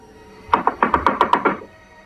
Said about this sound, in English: It didn't take too long before the knocking came again, this time much louder and more frantic.